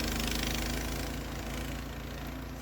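A snow plow engine runs steadily while clearing a snowy yard, giving a constant mid-pitched drone that fades slightly near the end, with no voices.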